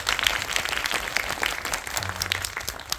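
An audience at a Korean film screening Q&A breaks into applause, a dense patter of clapping that stays fairly steady for a few seconds and sounds moderately distant in the hall.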